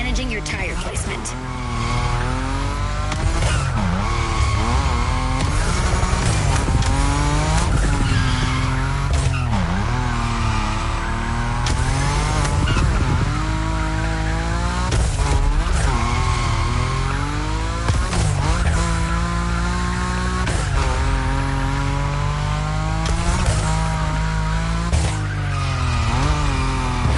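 A Nismo car in The Crew Motorfest slides at high speed, with its engine roaring continuously as tires squeal and skid in repeated long sweeps and gear shifts rise and fall.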